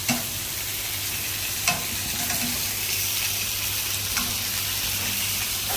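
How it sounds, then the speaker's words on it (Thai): Hamburger food frying in a pan, a continuous close sizzle and crackle with faint stirring scrapes throughout, steady and even, no voices. "ตอนนี้ก็กำลังทอดอยู่นะคะ"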